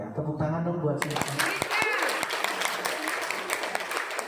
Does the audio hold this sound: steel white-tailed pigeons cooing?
no